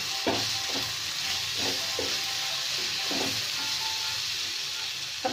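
Potato bhujia seasoned with red chilli powder cooks in a pan with a steady, fairly loud sizzle, and a few soft scrapes and stirring clicks come and go over it. No one speaks.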